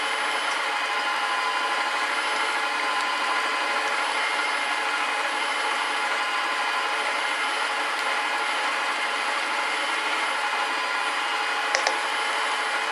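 A Sunbeam MixMaster stand mixer, model FPSBSM2103, runs steadily at a raised speed, giving a continuous high whirring motor hum with no talk and only a small knock near the end.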